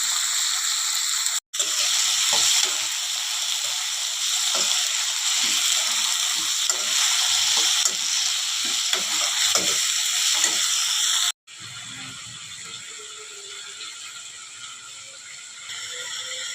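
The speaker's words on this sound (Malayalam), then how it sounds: "ഇനി നമുക്ക് നന്നായിട്ടൊന്ന് വഴറ്റിയെടുക്കാം." Chopped garlic and ginger sautéed in a pan for a Chinese-style chicken chilli, producing a loud, steady frying hiss with brief cutoffs and a quieter stretch near the end.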